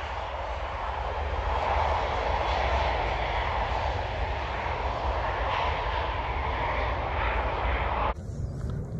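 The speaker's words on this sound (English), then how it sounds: "waiting for a plane to land or take off" Fixed-wing airplane roaring through its takeoff, a loud, continuous broadband engine rumble that holds steady for several seconds before cutting off abruptly near the end.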